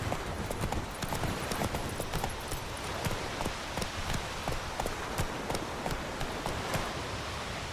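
The horse Roach gallops across the ground in The Witcher 3, rapid hoofbeats pounding in a steady rhythm, close and fairly loud, with almost no talk over them.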